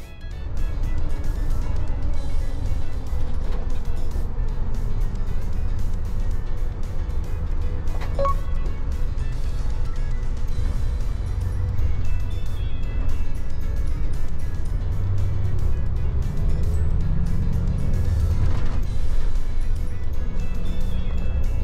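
A Nishitetsu highway bus travels along the Kyushu Expressway, and its interior fills with a steady, loud drone of engine and road noise that holds unbroken throughout.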